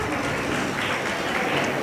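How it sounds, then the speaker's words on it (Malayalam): Applause from an audience at an SNDP Yogam jayanthi celebration stage event, greeting dancers after a song-and-dance performance; steady, dense crowd clapping fills the whole moment at moderate volume. "നമുക്കൊരു വലിയൊരു കൈയടി കൊടുക്കാം പ്ലീസ്"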